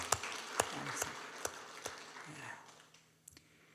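A church congregation at a Sunday worship service claps, with sharp scattered claps that thin out and stop within a few seconds, while a voice speaks over them.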